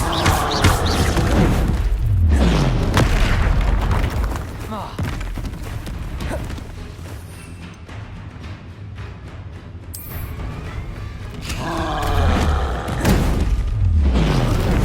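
Heavy booms and thuds from a troll attacking in the game Hogwarts Legacy, loud impacts near the start and again near the end over a rumbling, busy background, with a voice speaking in parts.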